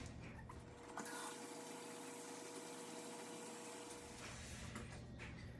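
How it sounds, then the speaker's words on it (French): Water is poured into a Tupperware pasta cooker, a soft, steady rushing flow heard fairly quietly and evenly for several seconds with no speech. "je vais mettre de l'eau jusqu'ici"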